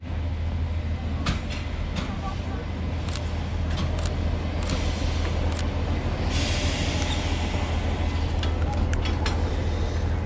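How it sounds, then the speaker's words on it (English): The Šargan Eight heritage train in West Serbia rumbles steadily with a low engine drone and occasional clicks and clanks, heard from nearby under faint background voices. "this is the Šargan Eight Train"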